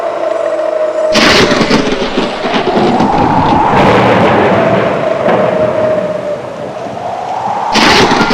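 Loud storm thunder rolls and rumbles continuously, with sharp cracking bursts at the start and again near the end, close and dominant with no voices.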